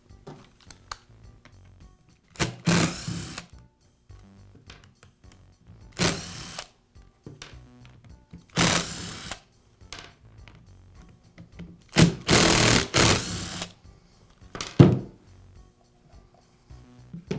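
Short bursts of whirring from a small power driver removing four screws from a Ridgid sander's backing pad, four separate runs spaced a few seconds apart, with quiet clicks and handling noises in between.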